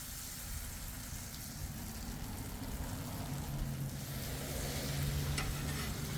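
A white sauce for chicken enchilada quesadillas cooks and melts in a pan with a steady, close, even sizzle and bubbling hiss throughout.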